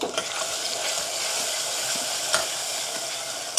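Tomatoes stirred in a frying pan for a green beans shaak sizzle quietly and steadily, with soft spoon scrapes and an occasional light clink, no voices.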